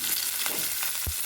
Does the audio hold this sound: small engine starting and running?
no